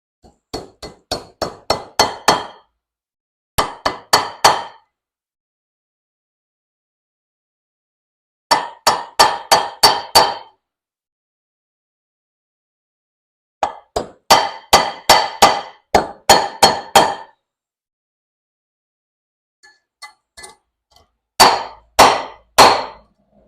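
A light hammer taps repeatedly on an old shoe last, struck in quick bursts of five to eight sharp metallic clinks with pauses between groups, close and fairly loud, ending with a few scattered taps.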